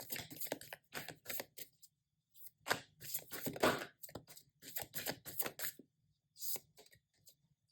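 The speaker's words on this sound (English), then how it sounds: "We're going to shuffle more and see what's coming through." Crisp, papery flicking and riffling of tarot cards comes in short bursts separated by quiet gaps, close up, as the cards are shuffled by hand.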